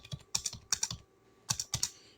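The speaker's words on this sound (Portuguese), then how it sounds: "eu vou digitar qualquer coisa no teclado" Quiet bursts of typing on a computer keyboard, two quick clusters of keystrokes separated by a short pause, close and clicky with no voices.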